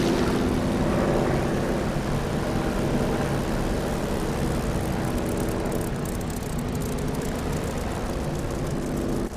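A Spitfire taxis out toward the runway, its engine a steady, loud, rumbling drone that barely changes for over nine seconds, with no voices.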